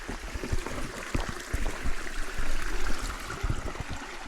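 A small stream flows beside a trail on the International Appalachian Trail in Québec, a steady close-up trickle and gurgle of water with soft splashes, no voices.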